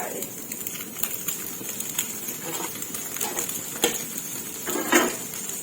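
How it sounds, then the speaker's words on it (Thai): Rice tipped into a hot pan for Chinese sausage fried rice, a soft steady sizzle with scattered scraping and clinking of a utensil against the pan, fairly quiet. "พอแค่ร้อนเริ่มสุกค่ะพี่น้องมันก็จะใส่ข้าวลงไป"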